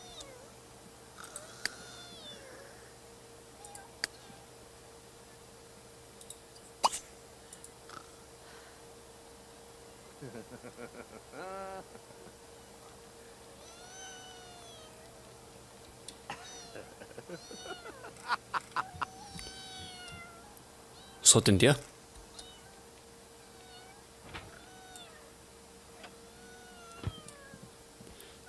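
A cat in the video game The Sims 3 meows repeatedly in short, scattered calls over a quiet background, with a brief loud burst midway and a few words of talk.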